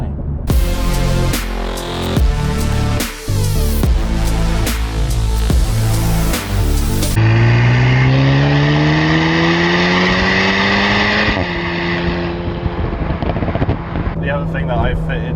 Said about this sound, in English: you hear a lot more induction noise than you do standard